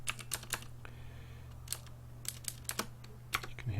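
A clicky keyboard types in short, irregular bursts of small sharp clacks. The keystrokes are quiet and close, over a steady low hum, with no voices.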